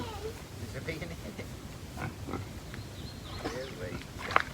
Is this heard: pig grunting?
yes